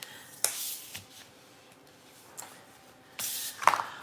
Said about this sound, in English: I will use my bone folder though, just so it'll give me a little bit of a more crisp fold right there.